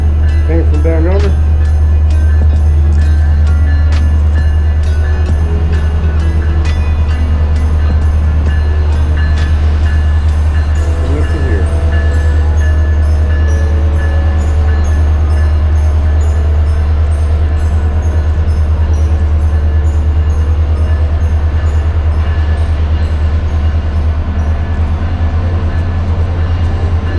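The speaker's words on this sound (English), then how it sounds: "That's our train coming to get us." A train arriving at Whittier, Alaska, with a loud, constant low rumble running throughout, scattered tonal squeals and clanks over it, and a few faint voices nearby.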